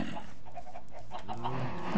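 Chickens on a Minecraft farm cluck in short repeated bursts, clear and close in the game audio, with no talking.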